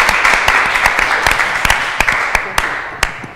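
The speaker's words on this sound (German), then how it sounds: "Applaus für den Handballverein Unterfranken und Bierlaune." Audience applause for a handball club at a live sports event, a broad steady wash of many hands with a few sharp, louder claps standing out near the listener, fading slightly over about three seconds.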